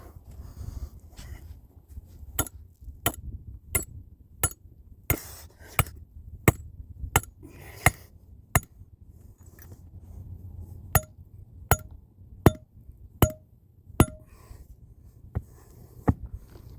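Sharp, evenly spaced metallic strikes ring out as a rebar stake is hammered into tough ground while setting a trap, about twenty blows in a steady rhythm with a brief pause midway, close and outdoors.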